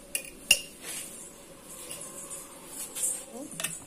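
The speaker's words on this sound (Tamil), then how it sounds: "இப்போ இதை நல்லா மிக்ஸ் பண்ணிக்கலாம்." Chicken 65 marinade with cornflour, masala, colour powder and ginger-garlic paste being mixed in a bowl, giving quiet scraping and occasional sharp utensil clinks.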